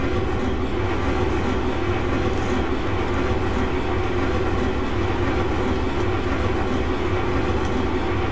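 A moving train in the video game Resident Evil: Umbrella Chronicles gives a constant, dense rumble with rhythmic rail clatter that continues steadily and loudly throughout.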